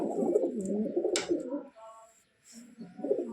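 Pigeons coo close by in soft, throaty, rolling bursts, pausing briefly before cooing again, with a faint sharp chirp in the middle.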